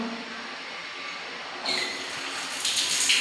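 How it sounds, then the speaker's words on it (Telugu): A bathroom shower in a rented village house is turned on, and after a quiet start a sudden hiss of running water rises and continues, bright and close. "ఇప్పుడు బాత్రూంలో మనకి షవర్ కూడా ఉన్నది. ఇద్దండి, వాటర్ వస్తుంది చూడండి."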